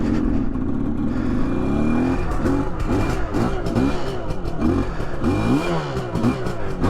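A cold barn-find Suzuki X7 motorcycle engine fires up and revs loudly up close, with repeated rising and falling throttle blips over a rough, clattery idle.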